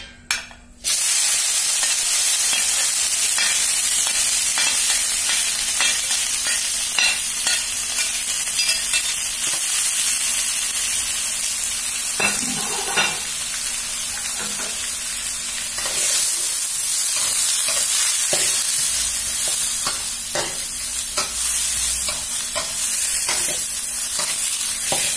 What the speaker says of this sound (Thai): น้ำมันร้อนละเอาเครื่องลงเครื่องพวกนี้เอาลงไปผัดทั้งหมดพร้อมกันเลยค่ะ